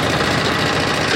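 Small FTI2010DE mini tractor engine running steadily while plowing a sloping field, a continuous loud mechanical clatter with dense rapid knocking and no break across the short span.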